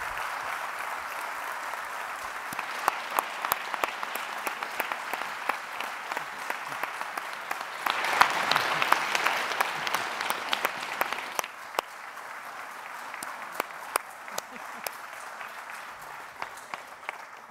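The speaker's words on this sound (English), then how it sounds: "How about a big round of applause for Sanjay?" Sustained audience applause at an evening mental-health lecture hall, a dense steady wash of clapping that swells in the middle and then settles, with a few sharper individual claps standing out.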